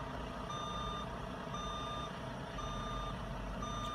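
Reversing beeps sound in a regular pulse, four evenly spaced tones over a low idling truck engine, heard from a short distance.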